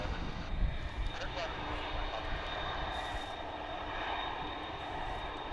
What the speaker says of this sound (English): I think they've got the engines pretty fine-tuned on these old jets.